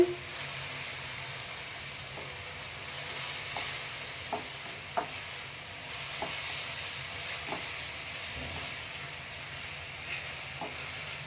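Onion frying in a pan with ginger-garlic paste gives a steady, moderate sizzle and hiss, broken by light scrapes as it is stirred, with no voices.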